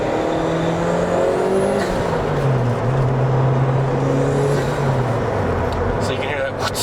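A Toyota MR2 Twin Turbo engine running close by, a steady loud drone with shifting engine tones and some faint background road noise.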